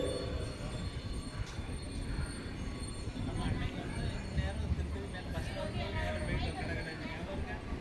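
A passenger train in India runs on the rails near Tiruttani station on a trip toward Tirupati, with a steady rumble of wheels and occasional faint squeals from inside the carriage while voices murmur in the background.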